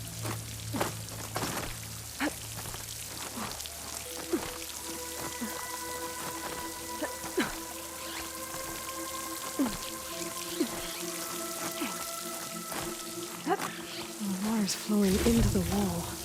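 Running water near a waterfall in the video game Horizon Forbidden West, a steady wash of splashing flow with scattered drips, held beneath a soft musical drone and occasional game effects.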